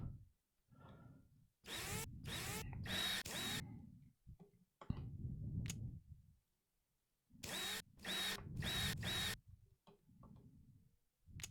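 A power drill in a rover repair video game backs out screws from a Perseverance rover wheel rim in several short whirring bursts, some with fast ticking, separated by quiet gaps and softer handling clicks.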